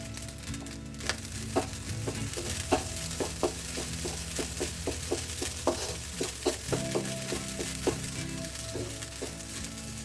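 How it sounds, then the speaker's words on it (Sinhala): Fried rice with salt, sugar and a little gambada sizzles and fries in a pan, a continuous crackling hiss broken by repeated sharp scraping clicks of a spoon stirring against the metal. "තව විනාඩි 3ක් විතර මේ ටික හොඳට ෆ්‍රයි කරගන්න"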